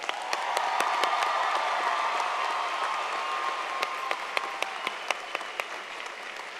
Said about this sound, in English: can we give our graduates one more round of applause?